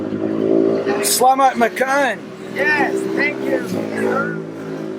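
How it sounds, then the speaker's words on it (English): Motorcycles pass and rev along a street without letup, a steady low engine drone running beneath people talking close by. "It's like motorcycles just non-stop."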